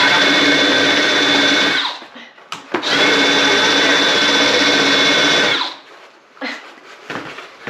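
A power drill backs bolts out of an old wooden garden bench being restored. It whines loudly and steadily in two long runs with a short break between, then gives a few brief spurts.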